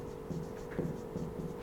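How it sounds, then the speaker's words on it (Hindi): Chalk or marker writing on a board during a chemistry lesson, a few short scratchy strokes in quick bursts, close and fairly quiet, with no talking. "मैं लिख रहा हूँ"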